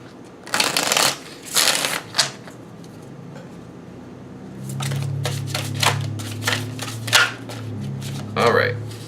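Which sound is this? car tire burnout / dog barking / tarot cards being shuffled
tarot cards being shuffled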